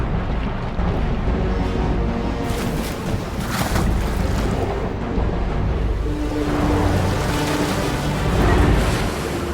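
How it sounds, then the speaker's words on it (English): Ocean surf pounds steadily against a beach where newly hatched sea turtles struggle toward the water, a loud, continuous wash of breaking waves with gusts of wind noise and no voices. "she confronts the waves"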